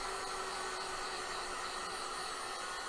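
A heat gun blows a steady, even hiss of hot air onto Worbla thermoplastic being shaped for a cosplay breastplate, continuous and close throughout with no voices.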